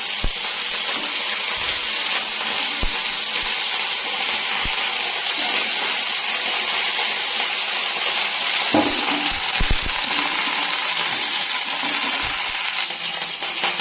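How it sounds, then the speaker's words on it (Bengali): Large cauliflower pieces frying in oil in a home kitchen, with a loud continuous bright sizzle, occasional clinks and low knocks of utensils against the pan. "ফুলকপিগুলো পুরো ভালো করে ভাজা হয়ে গেছে"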